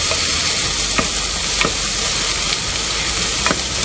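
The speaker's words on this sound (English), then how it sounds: "1 medium sized onion, half, finely chopped. Let's mix it well." Half a medium onion, finely chopped with garlic, is stirred in a hot pan for spinach dal khichdi, giving a steady loud sizzle with a few soft scraping strokes of the spoon and no talking.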